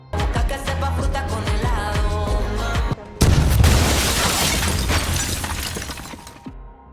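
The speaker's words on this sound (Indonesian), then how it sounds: "Akibat dari ledakan bom itu" A bomb detonates in an action film: dense, dramatic music with heavy low hits gives way to a loud, broad blast with shattering debris that rolls on for several seconds before fading.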